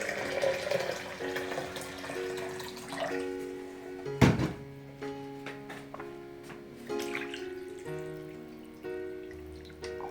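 Water pours from a kettle and splashes into a pot in uneven bursts, with one sharp clatter midway and quieter trickles and clinks around it.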